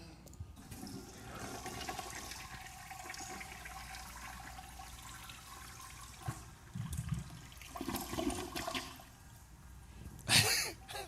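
A toilet flushes with a steady, rushing wash of water that runs through most of the clip and ends in a louder gurgling burst near the end. Faint voices are heard in the background.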